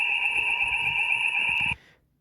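An animated Emergency Alert System alarm, a sped-up Irish version, sounds as a loud, steady two-tone electronic blare that holds unbroken and then cuts off abruptly, leaving near silence.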